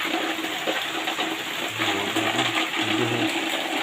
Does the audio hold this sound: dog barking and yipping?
no